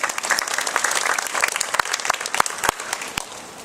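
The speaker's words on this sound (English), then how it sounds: "give Barry Stanton a round of applause as well" Audience applause ringing out at a Prince George's County Council event about new fire and EMS apparatus, a steady crowd clapping with a few sharper individual claps standing out.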